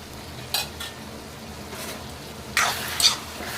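Tomato with chilli powder, coriander powder and garam masala fries in a pan, a low steady sizzle broken by a few sharp scraping stirs of a spoon, close up with no voices.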